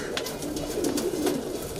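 Several kalpare high-flyer pigeons coo softly in their loft, a continuous low burbling with no speech over it.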